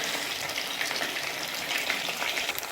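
Lahori-style fish frying in hot oil, an even, hissing sizzle with fine crackles held at a constant level from start to finish, close up and without talk.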